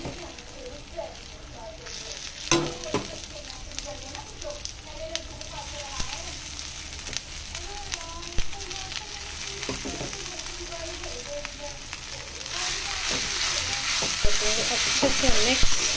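Cooked rice is stirred through a hot sizzling pan for Indian lemon rice, a steady frying hiss with soft scraping strokes of a spoon, close up and continuous, growing a little louder toward the end.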